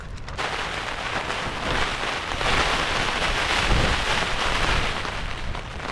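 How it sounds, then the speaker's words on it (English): Heavy rain drums steadily and loudly on a taut Dyneema composite fabric tent overhead during wild camping, a dense continuous patter with gusty swells from strong winds. "More very heavy rain and strong winds."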